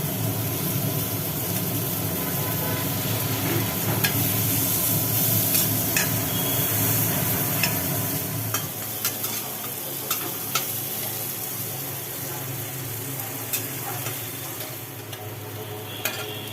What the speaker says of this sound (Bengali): উচ্ছে কুমড়ো ভাজা কমপ্লিট হ্যাঁ